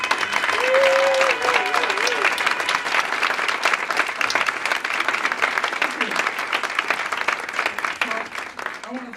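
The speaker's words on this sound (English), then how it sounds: "Why doesn't the committee stand up so we can give you a round of applause for the work?" Sustained audience applause fills a large room as a planning committee stands for recognition at a Black History Month event, steady dense clapping with crowd noise throughout.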